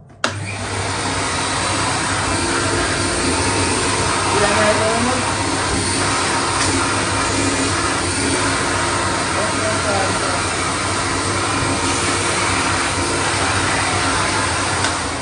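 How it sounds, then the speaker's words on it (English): A vacuum cleaner drones steadily and loudly throughout while vacuuming a couch, a constant whooshing motor hum with slight shifts as it moves, voices faintly underneath. "Let me vacuum your couch now."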